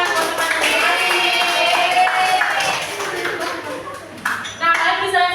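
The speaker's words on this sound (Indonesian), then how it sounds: "tepuk tangan buat teman-teman" Young primary-school pupils in a third-grade civics class clapping for their classmates, a bright rhythmic patter of small hands mixed with children's voices and an adult voice speaking over it, fading toward the end.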